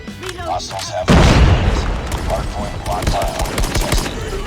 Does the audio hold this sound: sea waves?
no